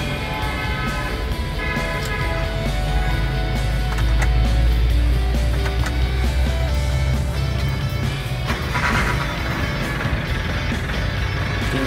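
A Vinaxuki 2.5-ton dump truck engine runs loud and steady, with a deep, continuous low rumble and some mechanical rattle throughout.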